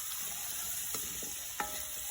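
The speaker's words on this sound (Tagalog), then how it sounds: "konting halo lang ating niluluto para hindi naman siya masunog guys" Food frying in a pan and stirred briefly to keep it from burning: a constant soft sizzle with a couple of quick spatula scrapes.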